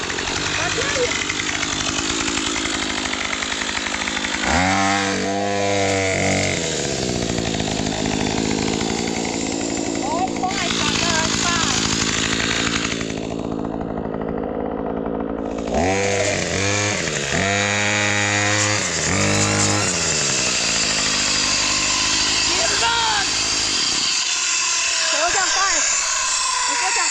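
Gas-powered brush cutter fitted with a CZS chainsaw-tooth blade, after sitting three years, roars loudly and continuously up close, with revving bursts that rise and fall and a brief drop to a lower idle partway through.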